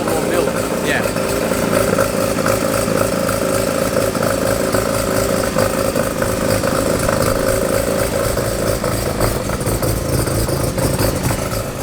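A Nissan 350Z engine running at a steady idle nearby, a continuous mid-pitched rumble with clattery texture, and people talking over it.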